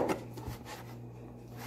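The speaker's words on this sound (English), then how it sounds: "Orange, I'll just chop it like this." A knife chops through an orange on a cutting surface, giving a couple of soft, quick cuts near the start that are faint and close, with no talking.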